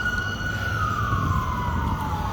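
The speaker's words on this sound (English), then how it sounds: "Sorry, sirens going on." An emergency vehicle siren passes outside, a loud, continuous wail whose pitch slowly slides downward as it goes by, with steady traffic rumble beneath and no talking.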